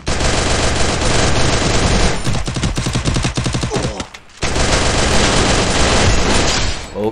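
Rapid automatic gunfire in the Free Fire battle royale game, loud dense bursts of shots continuing almost without pause, broken by a brief gap before the firing resumes.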